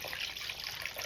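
Water is poured out of a small container in a brief, quiet, continuous splashing trickle, heard alone without speech.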